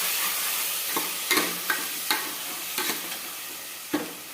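A spoon scrapes and stirs fenugreek dal with soaked toor dal in a cooking pot, making a series of distinct, close scraping strokes over a soft background sizzle.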